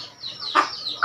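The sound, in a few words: hen clucking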